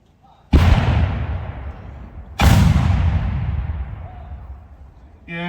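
A 6-pounder cannon fires two blank rounds at a battlefield re-enactment, each a sudden loud boom with a long rolling rumble that decays over about two seconds before the next shot.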